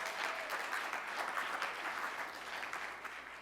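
A conference audience claps at a main event, a dense and steady burst of applause lasting several seconds, heard from within the hall and alone without any talk.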